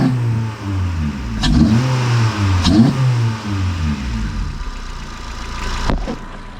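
A 10th-generation Honda Civic 2.0L engine fitted with a PRL high-volume intake revs repeatedly, rising and falling in pitch with several blips, loud and close, with no talking.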